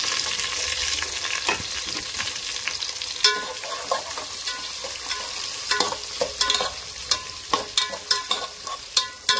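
Spices fried with onions, green chillies and carrot in a pan, sizzling loudly up close while a spoon scrapes and stirs in a quickening series of sharp knocks.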